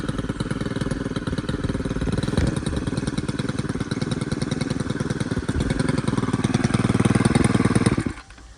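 A Stihl FS91R string trimmer engine runs close by with a rapid, rattling buzz that swells slightly and then bogs down, dropping off sharply at the end.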